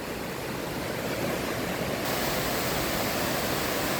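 A clean river flows through Saalbach in Salzburg, Austria, giving a steady, loud, close rushing of water that holds even throughout, with no voices.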